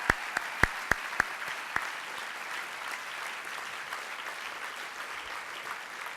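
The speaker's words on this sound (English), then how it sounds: "Please let's give him another round of applause for his inspiring advocacy." Dinner guests at a fall gala applaud, opening with several sharp, close individual claps before settling into a softer, steady patter of audience clapping that carries on for several seconds.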